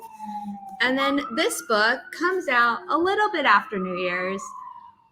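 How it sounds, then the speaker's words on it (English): A distant siren wails faintly beneath a person speaking close up, its steady tone running through the whole stretch of talk. "sorry for the sirens"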